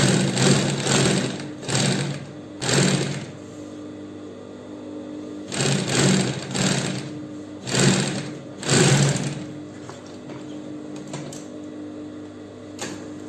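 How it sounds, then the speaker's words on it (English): A sewing machine runs a straight seam through Ankara fabric in several short, loud bursts of rapid stitching, separated by brief pauses, close by. "Then we'll sew a straight line down. We'll sew it together all the way down."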